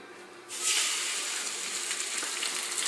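Salmon fillet laid skin side down in a hot, smoky pan, bursting into a loud, steady sizzle that starts abruptly and holds as a continuous bright hiss with no talking.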